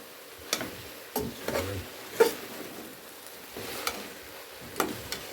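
Okra sautéing in a pot over a home stove burner, a soft, low sizzle broken by scattered spoon scrapes and clinks against the pot, fairly quiet, with no talking.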